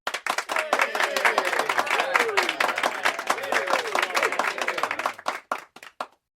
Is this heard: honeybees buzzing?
no